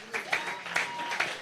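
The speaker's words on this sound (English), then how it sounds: "yes, you can clap, you can clap, you can clap" A church congregation claps at a worship event, with several quick, irregular bursts of hand claps spread across a short stretch and a faint murmur beneath them.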